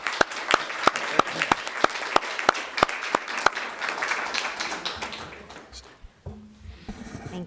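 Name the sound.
audience applause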